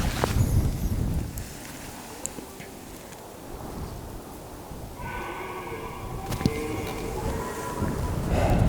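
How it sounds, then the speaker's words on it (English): Strong wind buffets a microphone outdoors in the Scottish Highlands, giving a heavy, continuous low rumble that swells and fades. Faint tonal sounds rise in the middle. "it's super windy, so it's difficult to hear them, it's difficult to film and record sound"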